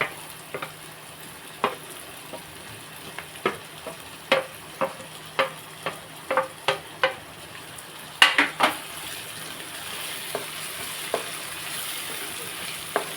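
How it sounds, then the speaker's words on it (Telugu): Tomato pieces frying in a pan for soya chunk keema curry, a soft sizzle under a series of distinct spoon scrapes and clinks against the pan, then a brief clatter and a steadier hiss. "ఇప్పుడు మనం ఇందులో టమాటా ముక్క కూడా వేసేసుకోవాలి టమాటా ముక్కలు వేసేసుకోవాలి"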